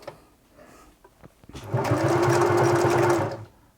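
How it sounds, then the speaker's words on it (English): Singer Futura Electronic 2002 sewing machine from the 1980s running a stretch stitch, a few handling clicks followed by a steady close mechanical whirring and needle chatter for about two seconds before stopping. "let's try a stretch stitch here"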